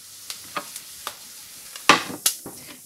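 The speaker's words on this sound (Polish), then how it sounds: "Przesmażę to wszystko przez około minutę" Onion, dried tomatoes, leek and thyme frying together in a pan: a faint, even sizzle cut by a few sharp spatula scrapes and clicks, close up, with no voices.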